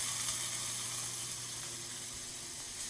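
Steady, crackling sizzle of food frying in oil in a pan, a constant hiss at moderate volume with no one speaking.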